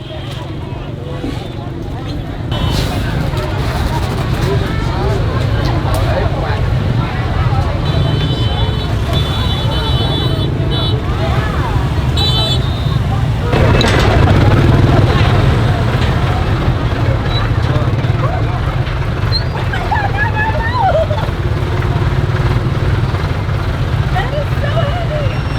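Dense night-market street traffic in Hanoi, with scooters and other vehicles droning in a steady, loud roar that runs unbroken throughout.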